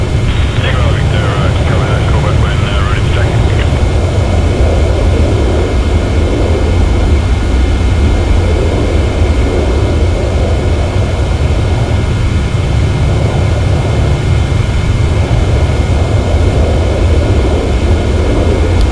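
A Qantas 717-200 taxis toward the terminal in the Prepar3D v4 flight simulator, a loud steady jet engine rumble and whine holding throughout.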